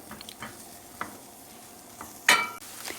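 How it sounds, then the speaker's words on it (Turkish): Onions dropped into hot oil for tomato bulgur pilaf, a soft sizzle broken by several spoon scrapes and one sharp metallic clink of utensil on pot, close and without speech. "Yağımın üzerine soğanları döküyorum arkadaşlar"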